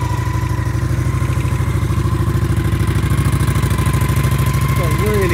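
A 2012 Honda VT 750 S motorcycle with its standard exhaust idles steadily nearby, giving a low, evenly pulsing throb with a light mechanical clatter, and a voice comes in faintly at the end.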